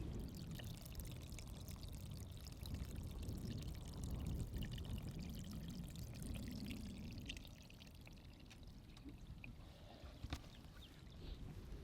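Water drains steadily down a dug swale into a pond, a continuous close trickling and pouring rush that keeps going for the whole stretch, with a brief louder splash near the end.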